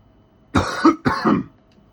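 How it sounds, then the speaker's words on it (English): Two quick coughs in a row, close and fairly loud, with quiet room tone before and after. "Sorry for coughing."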